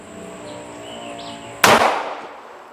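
A single sharp gunshot from a switchblade-style folding gun cracks out loud and close, fired at a small silhouette target, followed by a short decaying echo after a quiet stretch.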